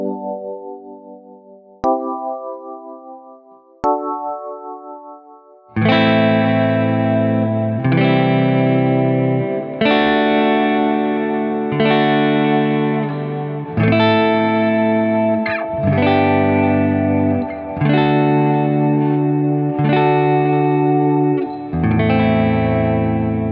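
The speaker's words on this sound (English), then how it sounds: "I'll play these chords in various positions to flesh out our chord progression" An A Dorian mode chord progression played in various positions: three lighter opening chords, then a series of full, sustained, effects-coloured chords ringing out roughly every two seconds with no talking.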